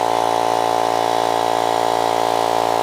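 Air compressor running for dent removal on a two-stroke expansion chamber: a steady, loud mechanical hum with an even, fast pulsing, close by and with no voices.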